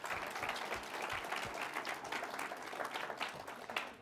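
Audience at a Women in Engineering keynote at the Exploratorium applauds steadily, a dense wash of many hands clapping throughout, fairly faint and distant with no speech.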